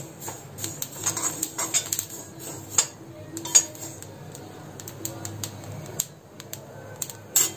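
Fennel seeds dry-roasting in a hot kadhai over a low flame while being stirred, giving scattered light clicks, ticks and scraping taps over a faint steady background.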